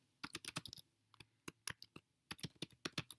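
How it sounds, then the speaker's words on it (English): Bursts of quick clicking keystrokes on a computer keyboard during a school typing-program sign-up, irregular in rhythm with short pauses, soft and close, no voices. "go ahead and type in your school, type in your name, and go ahead and put in your school email."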